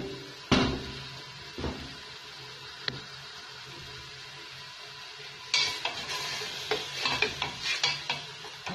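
Onions and meat frying in a pot for couscous royal, a faint sizzle broken by a few utensil knocks, then bursts of stirring and scraping toward the end, close and without talking.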